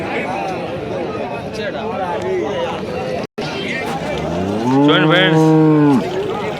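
A large white Jersey cow at the Punganur cattle market lets out one loud, drawn-out moo near the end. Crowd chatter and voices murmur in the background throughout.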